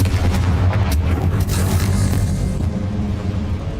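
The Confringo explosion spell in the video game Hogwarts Legacy bursts with a heavy booming blast that rolls into a sustained, rumbling roar, loud and close, fading slightly at the end.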